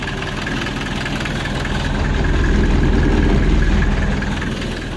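A T-25 tractor with a front loader raised by two hydraulic cylinders idles steadily close by, its low engine rumble and knocking swelling louder midway as the loader lifts, with no talk over it.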